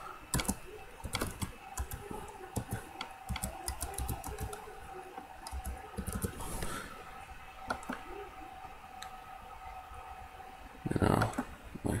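Computer keyboard typing in quick irregular bursts of clicks, fairly close and moderately loud, running through most of the stretch with a denser flurry near the end.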